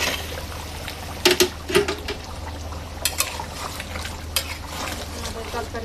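Meat curry being stirred in a covered pot, a spoon scraping and knocking against the metal in a few sharp bursts over a low simmering bubble, close by.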